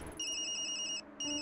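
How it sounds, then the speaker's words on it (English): A mobile phone ringtone from the video game Tokyo Dark, a short electronic warbling pattern repeating in two quick bursts with a brief gap, quiet and alone. "That's my phone."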